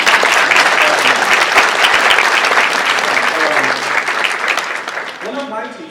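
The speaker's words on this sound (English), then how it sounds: "a round of applause for the mayor," Audience applause for the mayor at a talk at the Islamic Center of Maine, a steady loud wash of clapping that begins to thin near the end as a voice starts speaking over it.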